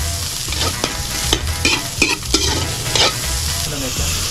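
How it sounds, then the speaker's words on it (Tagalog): Chopped whole shrimp sauté in a hot pan with a loud, steady sizzle. Sharp, irregular scrapes and knocks of a stirring utensil come through close up, with no talk. "ginigisa ang buong hipon na tinadtad para mas maging malasa"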